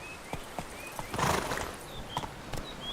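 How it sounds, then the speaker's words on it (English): Hooves clip-clop in a steady rhythm from a horse in The Witcher 3 video game, with a neigh rising midway, clear and near, alongside faint whistling game ambience. "Whoa there, Roach."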